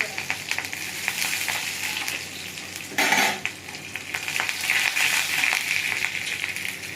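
Five-spice seeds and green chillies sizzle in hot oil in a kadai for a bitter gourd chorchori, a steady loud crackling hiss with a brief louder burst partway through and occasional utensil scrapes, no voices.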